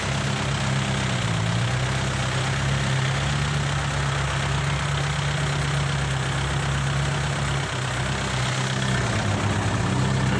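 A tractor engine runs steadily with a rotor attachment, producing a continuous loud low rumble and drone with no speech throughout.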